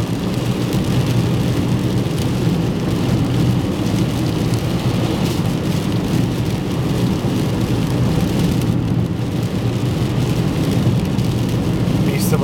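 Steady, dense rain roars continuously without a break while driving toward Lassen Volcanic National Park, a thick wash of noise that could be downpour on a surface or a vehicle.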